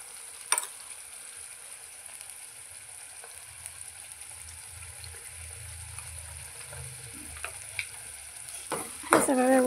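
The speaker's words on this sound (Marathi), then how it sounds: "हे सगळं व्यवस्थित मिक्स करून घ्यायचं आणि व्यवस्थित तेल सुटेपर्यंत भाजून घ्यायचं आहे।" Masala with ginger garlic paste sizzles gently in oil on low heat, a quiet steady hiss punctuated by a few sharp spatula clinks and scraping strokes, louder toward the end.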